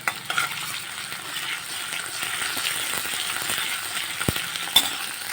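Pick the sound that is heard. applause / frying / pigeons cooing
frying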